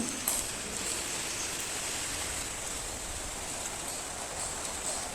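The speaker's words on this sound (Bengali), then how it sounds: "দেখেন কী পরিমাণ বৃষ্টি পড়তেছে, বৃষ্টির কোনো শেষ নেই।" Heavy rain pouring steadily without a break, a dense continuous hiss with no voices.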